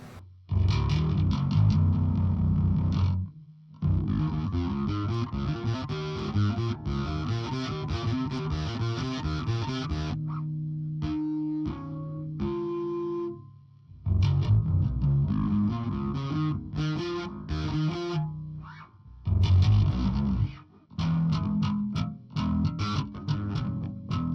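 Distorted electric bass riffs played alone on a Spector Dimension NS5 bass, with gritty sustained notes, brief pauses, and a few quieter clean picked phrases midway.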